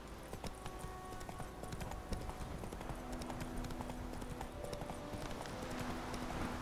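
Steady rhythmic clip-clop of a horse trotting on a path in The Witcher 3, hoofbeats close and continuous throughout with game ambience underneath and no talk.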